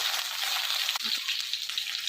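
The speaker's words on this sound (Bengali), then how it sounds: "আলু ভিন্ডি ভাজা হয়ে গেছে" Potato and okra frying in hot oil make a continuous close sizzle with a faint stirring scrape partway through. No talking.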